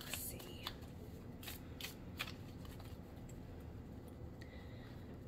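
Quiet card shuffling with soft riffling and a few sharp flicks over a steady low background hum; no talking.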